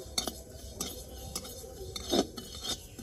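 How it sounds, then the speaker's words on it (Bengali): Fenugreek seeds being dry-fried and stirred in a pan for sweet-sour-spicy mango pickle, with a soft background hiss and repeated light scraping and clinking of a spoon against the pan, one louder scrape near the end. "মেথিটাকেও লাল লাল করে ভেজে নেব"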